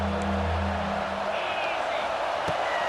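Steady roar of a stadium crowd in a college football video game featuring Ohio State, a broad continuous wash of cheering with a brief swell of whoops, under a low hum.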